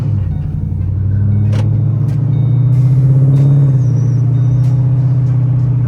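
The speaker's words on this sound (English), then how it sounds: "Take it down the road right here and see if it's got any shake or shimmy in it." A Mustang GT/CS fitted with a new driveshaft cruises down a road on a test drive, giving a steady close engine drone and road rumble that swells slightly partway through, with a few faint clicks and no talking.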